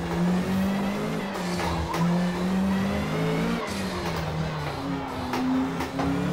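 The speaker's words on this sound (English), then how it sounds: "a very beasty engine" A 1984 Nissan #20 Bluebird Super Silhouette race car in Forza Motorsport, rated around 536 bhp, drones steadily and loudly at high revs, its engine note rising and dipping through gear changes with brief tyre squeal and no talk.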